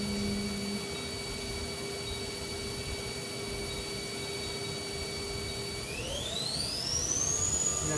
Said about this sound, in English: We'll go ahead and start the spindle.